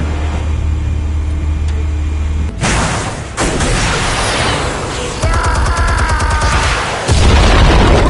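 Explosives firing in a Batman video game: a sequence of heavy booms and crashing blasts, loud and close, with rumbling low impacts and a harsh burst near the end.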